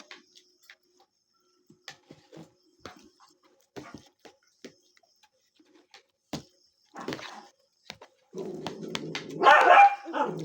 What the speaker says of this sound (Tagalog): Si Bon, pag may nakikitang ibang aso sa labas, inuusig.